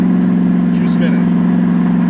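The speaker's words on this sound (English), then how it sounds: "it was just spinning the tires" A Camaro race car spins its tires, a steady loud low engine drone with a faint rasp of tire squeal on top, heard close from inside the car.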